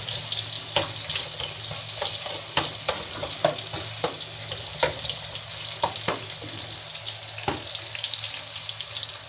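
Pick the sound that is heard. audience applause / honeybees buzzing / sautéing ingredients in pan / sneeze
sautéing ingredients in pan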